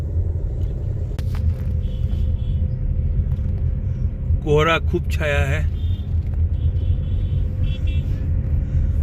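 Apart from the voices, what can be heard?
car driving on mountain road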